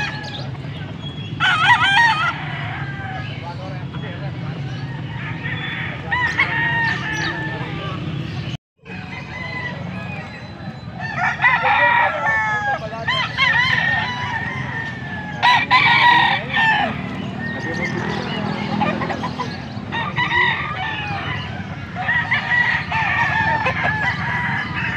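Young stag gamecocks crow and cluck repeatedly at a Pampanga gamefowl farm, several birds calling near and far over steady background noise, with brief talk mixed in.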